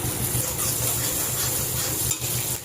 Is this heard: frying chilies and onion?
yes